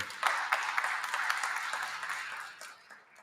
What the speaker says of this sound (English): give him a round of applause for being our